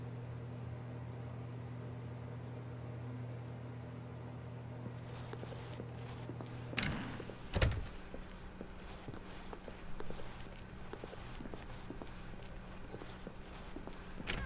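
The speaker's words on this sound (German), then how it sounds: "Als Stanley an zwei Türen vorbeikam, nahm er die Tür links von ihm." Footsteps in the video game The Stanley Parable follow a low steady hum, with a couple of louder knocks midway as a door is passed, then soft repeated steps continuing, fairly faint.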